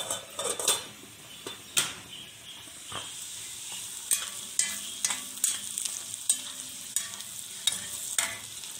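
A spoon stirs boiling mung bean soup with spinach and bitter gourd in a pot, with repeated close scrapes and metallic clinks against the pot over a soft bubbling simmer.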